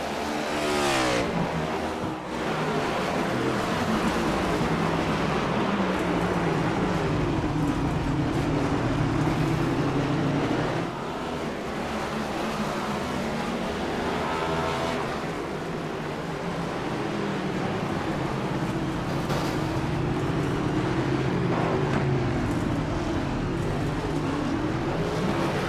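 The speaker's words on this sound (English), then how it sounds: "Blake Giglio going to make it around to the front stretch and do his victory burnouts" Race cars in the iRacing sim at Sonoma perform victory burnouts, giving a loud, continuous engine roar with repeated revving swells and tire scrub that rise and fall over time.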